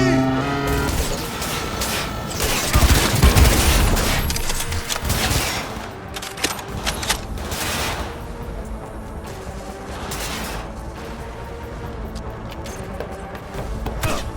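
Gunfire in Cyberpunk 2077, with dense bursts of automatic shots and impacts over a loud battle din, heaviest early and then continuing in scattered bursts, with voices shouting over it.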